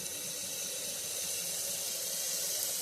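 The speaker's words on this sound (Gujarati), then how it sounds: "હવે આપણે આમાં થોડુંક પાણી નાખીશું, બહુ ઝાઝું નાખવાનું નથી।" Water pours steadily into a pan of curry made with tomato and cowpea pods, a continuous close hissing rush with no talk.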